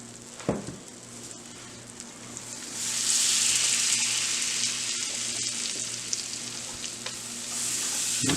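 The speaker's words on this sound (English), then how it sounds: "We're just going to whisk in this flour and butter." Flour and butter are whisked in a hot pan for a Southern smothered fried chicken gravy, with a steady sizzle that grows louder partway through, plus occasional sharp taps of the whisk against the pan.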